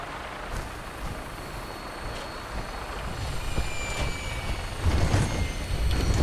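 Aircraft engines in Fallout 4 spin up for takeoff, a steady low rumble with a faint high whine that swells louder toward the end, heard alone without talk.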